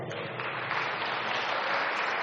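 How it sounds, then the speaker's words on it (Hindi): Audience clapping at a spiritual discourse gathering, a steady, dense wash of many hands held at an even level throughout, with no speech over it. "उड़ती कला करने वाले कौन कौन है, आज क्या करें, वह इसके लिए भी ताली बजाए।"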